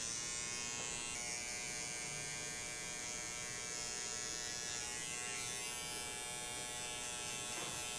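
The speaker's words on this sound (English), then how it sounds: "we're just going to be using the T-outliner" A T-outliner electric hair trimmer buzzes steadily and loudly up close while shaping the sides of a burst fade haircut, a continuous high whine with no pauses.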